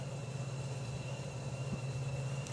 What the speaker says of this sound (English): I think we can hear Ricky's funny car fired up in the lanes